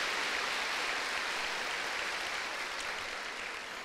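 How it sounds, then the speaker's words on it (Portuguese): Congregation at a Catholic prayer group applauding, a steady dense wash of clapping that fills the room evenly and tapers slightly at the end. "Aplauda com toda a força, a poderosa palavra de Deus."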